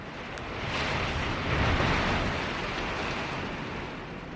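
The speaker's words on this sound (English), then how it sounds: "But guess what we have? Crazy rain." Heavy rain pours down in a steady, dense hiss, mixed with gusty wind of around 60 kilometers per hour buffeting the microphone; no one speaks.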